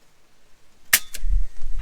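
An FX Impact M3 air rifle fires one sharp, close crack, followed by a quick second click and then low rumbling handling noise.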